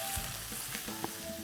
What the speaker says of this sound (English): So let's soften these onions a little bit.